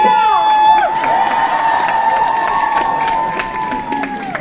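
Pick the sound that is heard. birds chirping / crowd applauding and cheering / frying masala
crowd applauding and cheering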